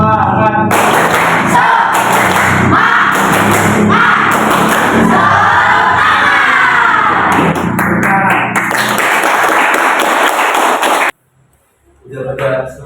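A primary school class performs a rhythmic spirit clap chant together, children's voices shouting in unison over patterned group clapping, loud and continuous before cutting to silence, then a brief burst of voices.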